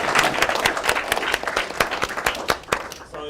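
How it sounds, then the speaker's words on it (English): Applause from the room at a Disability Action Week event, a small gathering clapping with distinct sharp claps standing out from a lighter patter, fairly close and lively, easing off toward the end. "So a big round of applause."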